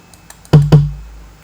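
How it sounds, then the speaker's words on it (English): Two punchy tom drum hits from a sample in beat-making software, spaced about a fifth of a second apart, each with a deep booming body that rings out and fades, alone and close. "If this tone drum sounds like this"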